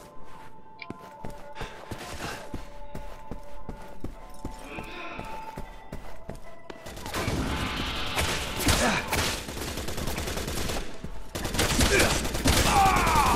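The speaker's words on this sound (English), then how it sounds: "Please stop shooting me." Dense, rapid gunfire from a Resident Evil 6 firefight fills the second half, loud and continuous bursts following a quieter stretch of sparse shots and game sounds.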